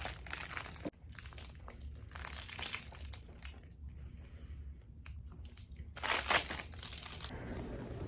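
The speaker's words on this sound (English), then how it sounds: "I'm just eating an emergency snack. I have a Rice Krispie that I found in my jacket" Faint crinkling and crunching of a snack wrapper as a Rice Krispie treat is unwrapped and eaten, with soft rustles and a brief louder crackle near the end, close and quiet.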